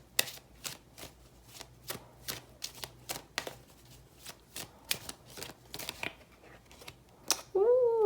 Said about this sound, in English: Pull a couple more cards for you.